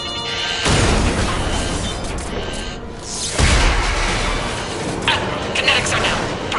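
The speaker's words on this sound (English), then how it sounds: "All ships, full barrage." Heavy sci-fi space battle barrage in Mass Effect 3, with dense, sustained booming artillery fire and crashing blasts that swell in two loud waves over a constant roaring wash.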